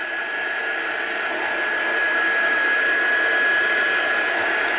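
A hair dryer blows steadily and loudly over a layer of Izink dye spray in a box, a constant whooshing hum with a thin whine, growing slightly stronger partway through.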